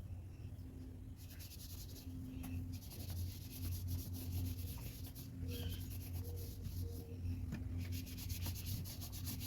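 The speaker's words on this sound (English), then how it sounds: "I'm going to now go ahead and give it a third wipe down." Steady soft rubbing of a cloth wiping down the leaves of an infested Aglaonema houseplant, a continuous close scrubbing texture with a low background hum throughout.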